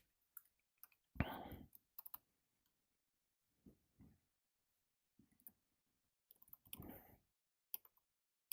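A computer keyboard is tapped during a sim-racing kart session in Assetto Corsa. Sparse, sharp clicks come singly and in small clusters against near silence, with a couple of brief louder bursts mixed in.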